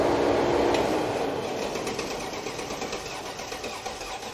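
The starter of a 500-horsepower Mercedes CL55 AMG, left sitting for seven years, churns the engine over in a fast rhythmic whir with a mechanical clatter, loud and close, slowly easing off without catching.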